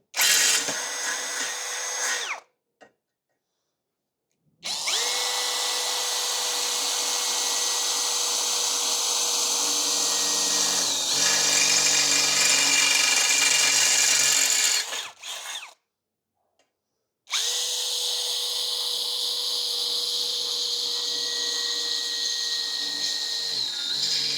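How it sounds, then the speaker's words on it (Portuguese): A Tecepo 21V brushless drill fitted with a Makita no. 6 bit bores into metalon tubing, whining loud and steady in two long runs broken by brief silent pauses, close up with no talk. "vamos ver se ela dá para perfurar pelo menos o metalon ali com uma certa tranquilidade"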